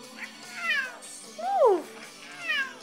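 A house cat meows several times nearby: a short call, then a longer, louder rising-and-falling meow, then another brief one, over a quiet room with faint background.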